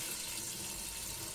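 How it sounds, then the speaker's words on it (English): Cold tap water runs in a steady, faint, hissing stream over blanched food in a kitchen sink. The flow is continuous and no one talks. "get some nice cold water on there"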